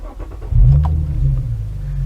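A Nissan Stagea family wagon with a 280 bhp engine and a modified exhaust starts up and settles into a loud, deep, steady idle rumble close by, with no talking.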